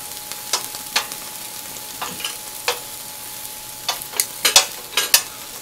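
Korean hanwoo beef sears in a hot pan, sizzling faintly with scattered crackling pops and stirring scrapes at close range, with no talking.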